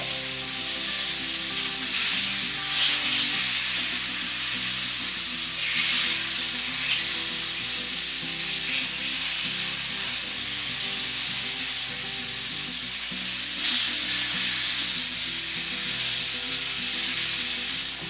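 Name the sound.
mallard duck pieces frying in hot pan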